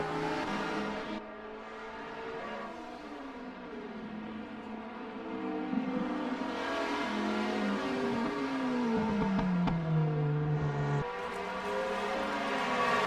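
A Group C race car in a sim racing game screams along at speed, its engine note rising and falling steadily through shifts and revs, loud and continuous with no voices.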